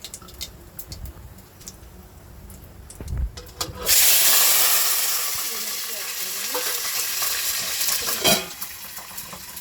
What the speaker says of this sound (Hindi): देखिए, 2 मिनट में हमारी मिर्च, शिमला मिर्च और सारी मिर्च थोड़ा सा फ्राई हो गई है।